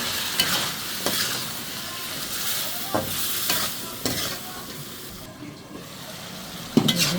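Stem vegetables (data) stirred and fried in a curry pan with green chili paste, a constant loud sizzle broken by repeated scraping stirs of a utensil against the pot, close and without talk.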